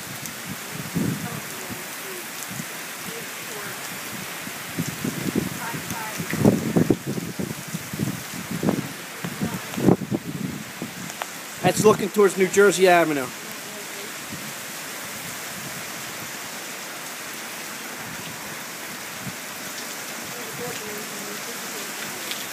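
Heavy wind-driven rain hisses steadily in Wildwood Crest ahead of Hurricane Sandy, a continuous close wash of noise with someone talking intermittently over it and a brief burst of louder activity midway.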